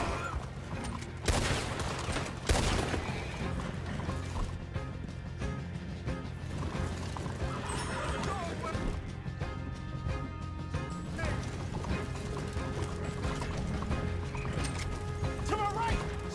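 Gunfire mixed with galloping horses during a chase and shootout in the Red Dead Redemption 2 video game, a dense continuous din with loud bursts and crashes, under shouted talk.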